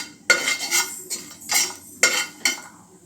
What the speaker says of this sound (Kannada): ಇವಾಗ ಇದು ಸ್ವಲ್ಪ ಎಣ್ಣೆಯಲ್ಲಿ ಫ್ರೈ ಆಗಬೇಕು.